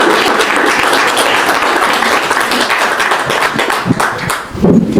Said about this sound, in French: merci pour ces applaudissements pour elle